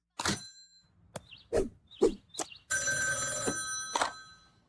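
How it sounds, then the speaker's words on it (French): A cartoon telephone rings in a French-dubbed animated episode, with a loud ring burst near 2.7 seconds that follows short knocks and warbly cartoon effects. "téléphone diabolique"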